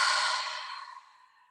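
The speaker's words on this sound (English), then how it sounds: "Take 3 deep cleansing breaths." A single deep cleansing breath exhales close and soft, a breathy whoosh that slowly fades away, with no voice over it.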